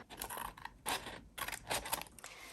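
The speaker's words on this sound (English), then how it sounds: "Then I'm going to cut out the shape." Scissors cut out a paper shape up close, a series of short crisp snipping and rustling bursts with brief pauses between them, with no voices.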